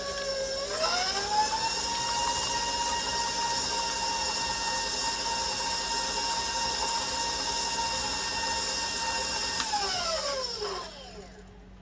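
An electric mixer whirs up to speed while eggs and vanilla are mixed into banana nut bread batter, holding a steady high whine for about ten seconds before winding down and stopping.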